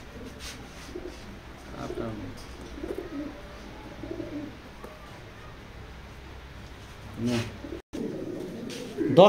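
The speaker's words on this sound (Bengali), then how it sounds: "তুক্ষার একটা কবুতর" Racing pigeons in a club loft give soft, intermittent cooing calls, faint and close, while someone talks over them.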